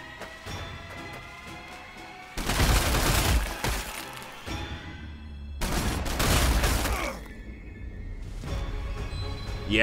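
Gunfire rattles in the Warhammer strategy video game Sanctus Reach as orcs are fought: two loud, dense bursts of shots and crashing impacts, over quieter battle noise between and after them.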